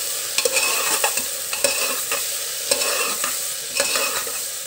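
A spoon stirs tomatoes into masala fish frying in a pan, scraping in a steady rhythm over a continuous close sizzle, with no voices.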